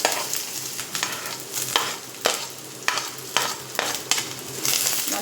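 Two chopped big onions sauté in hot oil with fennel seeds in a kadai for a prawn gravy, giving a continuous close sizzle. Sharp scrapes and clacks of stirring come at a regular rhythm, with no voices.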